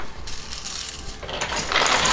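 Quarters pour and clatter into a high-limit coin pusher machine, a dense metallic rattle of coins dropping that swells louder near the end, with no talk.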